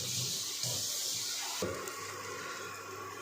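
Water poured into roasting masala for Kuttanadan duck curry, a close continuous splashing pour that shifts and settles partway through.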